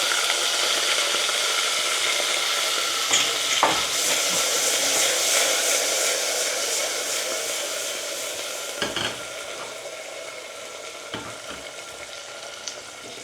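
Curry leaves and green chilli crackling in hot tempering oil with asafoetida for khaman dhokla, a dense, loud, steady sizzle with a few brief pops and spatters, fading slightly toward the end, no voices.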